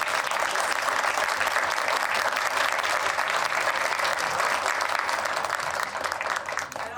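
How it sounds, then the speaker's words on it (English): Audience applauds panelists at a Brandon University event on bail reform, a steady dense wash of clapping from many hands that holds strong throughout and eases slightly at the end. "Everyone, please give them a round of applause."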